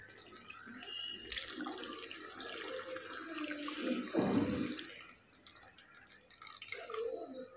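Cooked moth beans and their cooking water are poured into a pan for Kolhapuri misal, a soft splashing, trickling pour that swells to a fuller gush midway, then tails off into drips.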